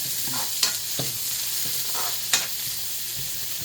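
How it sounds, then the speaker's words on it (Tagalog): Oil sizzling steadily in a frying pan as ingredients are sautéed, with a constant bright hiss and a few sharper spatula scrapes and clacks close by. "Gisa-gisa na tayo guys"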